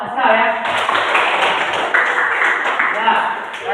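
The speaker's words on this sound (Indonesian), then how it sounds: "Tepuk tangan untuk Askar ya" Schoolchildren in a classroom clap for a classmate during an Islamic religious lesson. Their scattered, uneven clapping mixes with chatty young voices close by.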